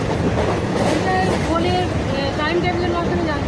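The Digha–Panskura special passenger train rolls along with a steady, loud rumble and rattle, heard from close by with faint voices mixed into the noise.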